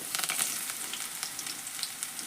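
Coriander going into hot tempering oil for a spicy Karnataka dal saru, with onions and curry leaves already in the pan, giving a steady, bright crackling sizzle close by with small pops throughout.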